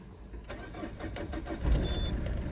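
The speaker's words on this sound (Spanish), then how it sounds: "Vamos a darle encendido al vehículo." A Peugeot 307 diesel engine cranks and fires up, a short starter churn rising into a steady idling rumble, close by with no speech.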